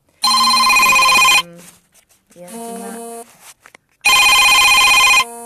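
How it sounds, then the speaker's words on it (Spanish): A phone's incoming-call ringtone plays loudly and close by in two bright, electronic bursts, with a softer tonal passage in between and a woman's brief hesitation sound. "me olvidé de silenciar el teléfono no sé cómo hacer para rechazar las llamadas."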